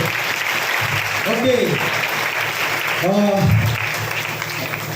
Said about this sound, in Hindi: जोरदार तालियां बजाएंगे वचन के लिए